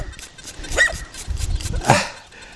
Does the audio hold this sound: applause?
no